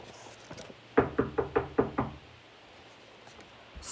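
Six firm knocks on a door in a quick, even run, close and distinct against a quiet background, with a storybook read aloud around them.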